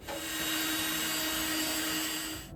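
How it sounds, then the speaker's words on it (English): A power drill whines steadily at high pitch as it bores through an aluminum glove box for a 1955 Chevy, continuous and close, stopping abruptly at the end. "I got it clamped up so I can drill a hole right here"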